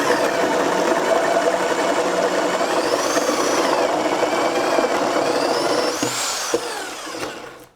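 An Enventor corded 1-1/4-inch SDS Plus rotary hammer drill running at speed level 4 makes a loud, steady whining buzz for about six seconds, then winds down and stops near the end.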